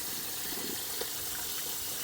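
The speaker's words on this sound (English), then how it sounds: "It's just the water circulating through the pads." Water circulating through the filter pads of an abandoned koi pond filter, a steady soft trickling wash that stays faint and continuous throughout.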